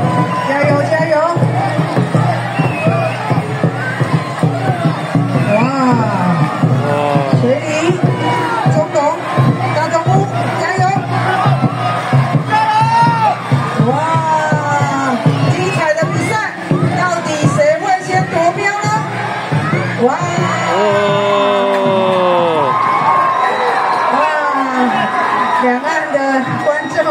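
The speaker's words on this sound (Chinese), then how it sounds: "我们很热情的欢呼声" A crowd at a team competition cheering and whooping loudly for a whole long stretch, shouts and voices rising and falling in waves, with an announcer talking over the din.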